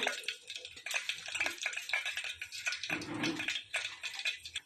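Whole spices such as bay leaf, fennel, cinnamon and cloves frying in hot ghee and oil: a faint, crackly, irregular sizzle with small bubbling pops, with a brief stirring scrape partway through and no talking.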